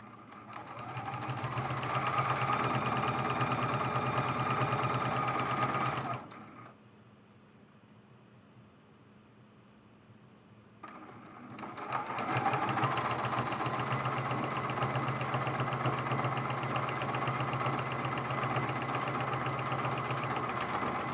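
A sewing machine quilts fabric strips of a table runner, running in a steady, fast mechanical whir up close, stopping for several seconds of near quiet, then resuming at the same even pace.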